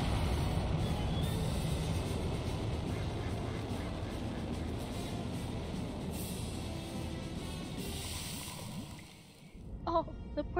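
Ducks quacking in the Lego Batman 3 video game: busy game noise with splashy water-like textures and honking calls mixed in, a steady mid-loud backdrop that thins out and ends with a few brighter clattering sounds.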